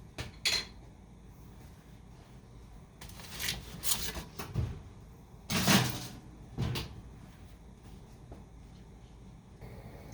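A baking pan of turkey kimchi fried rice slides back into the oven, with scattered clunks, a metallic rattle and a door-like thump spread over the clip, fairly faint.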